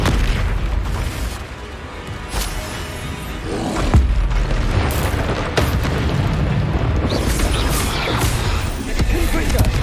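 Confringo fire-blast spells explode during a Hogwarts Legacy battle, loud booming bursts rolling over a dense, continuous roar of combat noise, with sharp impacts around the middle and voices blended into the din.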